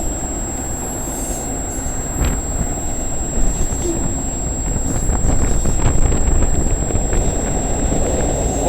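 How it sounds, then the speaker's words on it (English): Strong wind blowing outdoors on a cold November evening beside a rail line, a steady loud roar and buffeting across the microphone with a low rumble underneath, and no voices. "it's freaking cold out here, and it's freaking windy"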